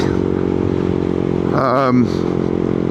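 A Yamaha MT125 motorcycle with an aftermarket exhaust and no catalytic converter runs at a steady loud drone on a ride, with a short rising rev midway and wind noise throughout.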